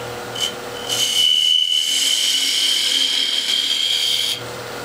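A wooden chess piece spinning on a lathe is thinned down with a cutting tool, giving a close, loud, steady scraping hiss with a thin high whine, starting and stopping abruptly.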